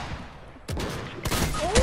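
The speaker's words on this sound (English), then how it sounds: "Heavy shotgun. I can't hit a shot." A heavy shotgun fires in the video game Fortnite, giving a couple of sharp, loud blasts less than a second apart over game noise.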